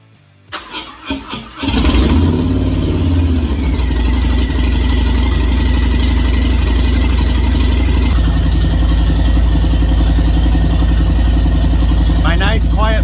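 A 40 hp Volkswagen engine fitted with mufflers cranks in a few short bursts, catches, and then runs at a loud, steady idle close by.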